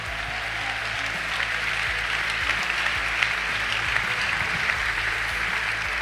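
Congregation applauding at a church service, steady sustained clapping over a low droning hum, with a few louder claps standing out near the end.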